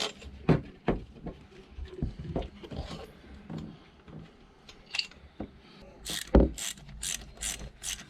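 A ratchet fitted with a 10mm socket clicks in short irregular bursts while tightening studs on a Volvo Penta boat engine, close and fairly loud, with a quicker run of clicks toward the end.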